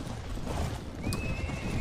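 Horses neigh and whinny over a background of hoofbeats during a cavalry battle in the Mount and Blade Warband video game, with a sharp rising whinny partway through.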